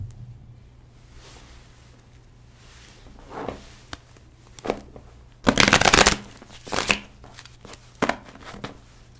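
Tarot cards are shuffled for a three-card draw: soft riffling and flicking bursts close by, growing into a loud, dense riffle in the middle with a few quieter shuffles after, and no talk.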